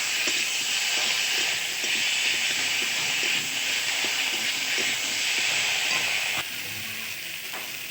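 Ground ginger, green chili and cumin paste hits a hot pan and sizzles in a loud, steady hiss that drops abruptly quieter near the end.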